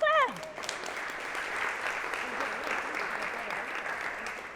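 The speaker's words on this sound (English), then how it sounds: "Come on, y'all, clap." Audience applause at a trail summit session on the benefits of building trails and bike/pedestrian routes, a steady wash of clapping that follows a brief voice at the start and continues for several seconds.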